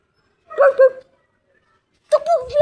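A dog barks twice close by, then after a pause lets out another bark that trails into a whine.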